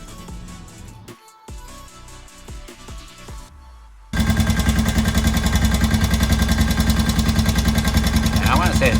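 A Honda TRX 250EX ATV engine runs loud and close after a quieter stretch, with a steady, rapid mechanical ticking from lifter noise riding over the idle.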